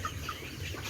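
Chickens on a broiler poultry farm give faint soft clucks over a low steady background hum, brief and distant.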